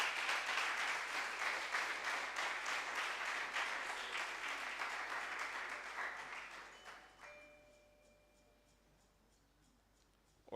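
An audience at a secondary school debate competition applauds in a dense, steady wash of clapping that holds for several seconds, then thins out and dies away to near silence.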